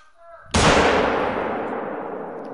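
Gun fired in a video game, one sudden loud blast that bursts in sharply and decays into a long rumbling echo, preceded by faint background sound.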